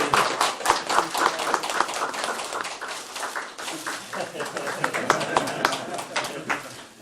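An audience at a Korean reading gathering gives warm applause, irregular bursts of clapping from a modest group, fairly close, with voices talking over it.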